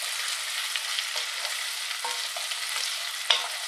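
Butter melting in a hot pan for broccoli soup, a steady close hiss and crackle of sizzling fat with occasional small pops, alone without talk.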